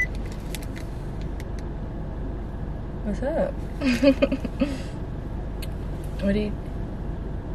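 Low, steady engine rumble from inside a car, with a person talking briefly over it and some faint rattling.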